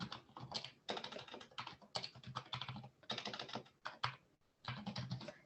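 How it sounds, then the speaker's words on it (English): Close, quick keystrokes on a computer keyboard come in rapid bursts separated by short pauses, with no voices. "having trouble typing this morning."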